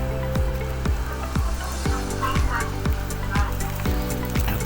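Cooking oil heats in a pan on a butane stove, crackling and sizzling with a steady spattering hiss, while repeated sharp knocks or clicks recur in a regular rhythm underneath.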